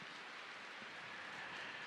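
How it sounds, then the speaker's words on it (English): Rain falls as a steady, even hiss, soft and continuous with no other sounds standing out. "the rain which you hear now is the constant watering of it"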